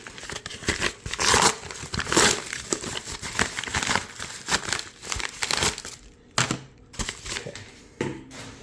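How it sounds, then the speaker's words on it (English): Padded mail-delivery packaging is torn and crumpled open in a close, busy run of crinkling and rustling bursts with short pauses, no talking over it. "Get rid of the packaging."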